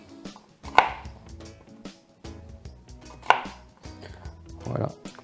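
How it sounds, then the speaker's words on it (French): A kitchen knife chops potatoes into cubes on a board: a few sharp, close thuds spaced apart, with softer scraping and handling sounds between them and no talking. "et ensuite on coupe dans le sens final."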